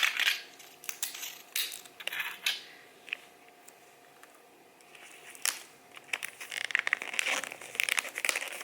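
Wrapping paper is folded and pressed down around a box, giving close, intermittent crinkles and crisp rustling bursts separated by quieter pauses, busier toward the end.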